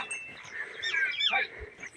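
A goat bleats nearby, a wavering nasal cry lasting about a second, with faint background noise and no talking.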